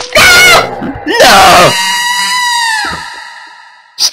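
Character screaming in the horror video game Mad Father: loud, close, piercing shrieks in two sharp bursts, then a long wavering wail that slowly fades, ending with a short breathy cry.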